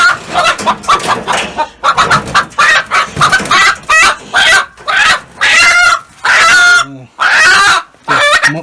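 Several chickens cluck and squawk close by and loudly in rapid, agitated bursts while being caught and packed for transport, with a person speaking softly in between.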